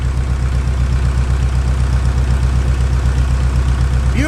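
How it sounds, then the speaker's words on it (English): An International Harvester WD-9 diesel tractor engine idles close by, a steady low throbbing chug that keeps an even rhythm throughout. "Just gonna let it run for a couple minutes so you can hear the sound."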